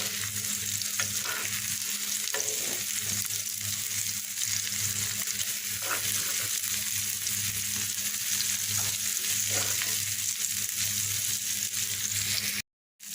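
Browned brinjal and onion fry in a pan with a constant loud close sizzle, with soft stirring scrapes now and then, before it cuts off abruptly at the end.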